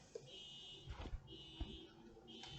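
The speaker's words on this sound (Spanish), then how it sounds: "Quítale la alarma a mi carro, es mi carro." A faint car alarm sounds in repeated electronic tone bursts, distant and low in level, with a few soft thumps and knocks in the background.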